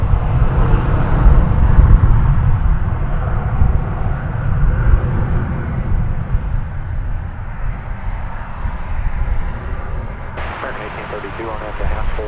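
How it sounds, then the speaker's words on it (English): An American Airlines Airbus A321 airliner at DFW Airport roars loudly with a broad engine rumble that slowly eases off, while a voice talks over it. "This is American Flight 1871. It's going to Las Vegas. It's an Airbus"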